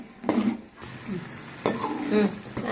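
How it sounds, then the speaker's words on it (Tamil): Tomatoes sizzle and fry in a pan as a utensil stirs them, with occasional scraping bursts; close by, no talking. "இப்போ இந்த தக்காளி பச்சை வாசனை போகிற வரைக்கும் நல்லா வதக்கிக்கலாம்"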